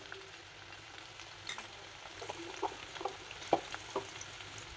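A paste of green chili, fresh coconut, garlic and salt fries quietly in a pan, giving a faint low sizzle with a few soft spattering pops and light stirring taps, heard alone.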